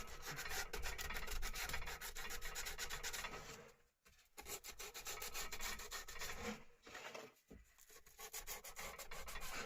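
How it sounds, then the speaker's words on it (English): Steady rasping strokes of sandpaper rubbing on wood edges by hand, a fast repetitive scratching with two brief pauses, close up and alone. "So we're just finishing off sanding around the edges now."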